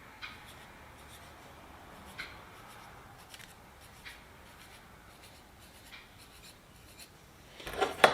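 Marker scratching over a metal aircraft part on a Sonex build, soft intermittent squeaky strokes spread across quiet background, ending in a brief louder rustle.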